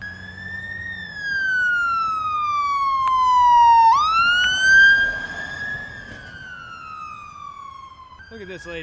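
An ambulance siren on a road wails in long rising and falling sweeps, loud and close, passing by over steady traffic noise, with a short yelp burst at the end.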